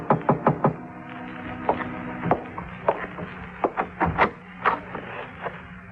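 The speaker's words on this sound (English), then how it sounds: "At 7:45, there was a knock on my door." Series of wooden knocks on a door in an old-time radio detective drama, several quick raps at the start then scattered sharper knocks over a low steady hum, fairly close and moderately loud.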